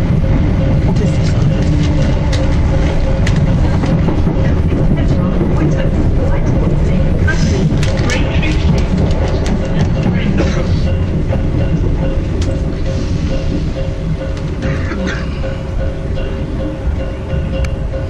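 A Greater Anglia train sits at a large city terminus platform, its engine humming and rumbling steadily and loudly throughout, while people talk nearby.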